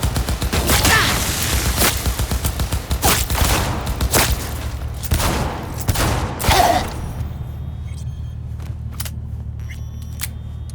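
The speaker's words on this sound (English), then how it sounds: "Open fire!" Dense, rapid gunfire in a Cyberpunk 2077 shootout, loud and close with repeated bursts and sharp shots over several seconds, then easing off into a low steady rumble with a few scattered pops.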